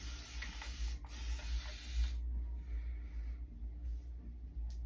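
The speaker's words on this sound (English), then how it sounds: "so I'm gonna spray this a little bit. Spray this with water." Quick hissing bursts from a spray bottle misting water onto curly hair extensions, two close pumps back to back then quieter rustling and faint handling noise.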